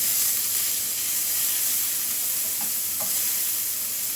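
Ginger and garlic hit hot oil with cumin seeds for a Sri Lankan mixed vegetable curry, giving a dense, constant hissing sizzle throughout with faint stirring taps near the end.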